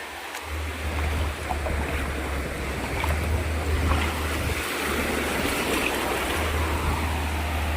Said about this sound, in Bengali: হালকা হালকা ঢেউ দিচ্ছে